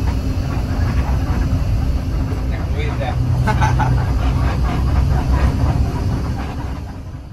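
A train rolls along a railway line through a cut in a coral rock hill, a loud, steady low rumble from inside the carriage with rhythmic clatter, beneath speech.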